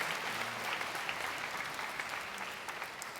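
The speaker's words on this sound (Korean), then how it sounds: "여러분께 박수로 환영하시죠." Church congregation applauds to welcome visitors after a prayer, a steady dense clapping from a crowd that fills the room evenly throughout.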